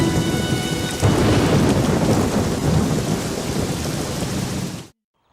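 Heavy rain pouring down with a loud, rumbling thunderclap, dense close downpour hiss throughout before cutting off abruptly near the end.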